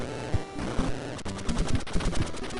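Bursts of explosions in the Kirby's Adventure video game, a rapid string of crackling, gunfire-like blasts with repeated sharp peaks over a steady game soundtrack.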